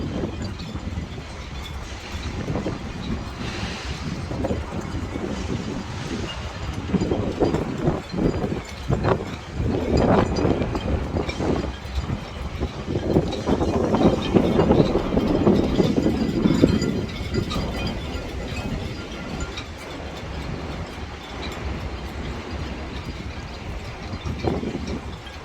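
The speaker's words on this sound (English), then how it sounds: "I know you guys gonna hear the wind noise, but I just want you guys to listen. All the masts from these sailing boats." Strong wind gusts across a marina full of sailboats, making a rumbling, buffeting roar that swells in the middle and eases toward the end. No one speaks.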